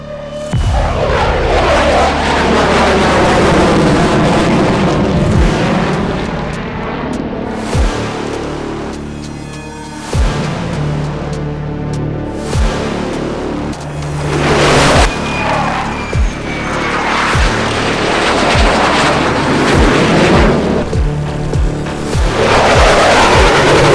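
US Air Force F-22 Raptor fighter jet passing overhead and turning, a loud sustained roar that swells and fades across the sky, with rumbling booms and a continuous heavy engine blast.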